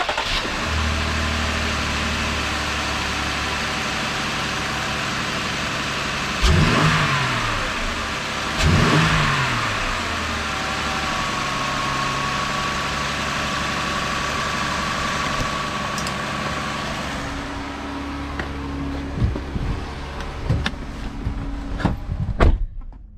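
A Jeep/Dodge 3.6L engine, fresh from a spark plug replacement, cranks and catches twice with brief revs, then settles into a steady close idle; a door thump sounds near the end.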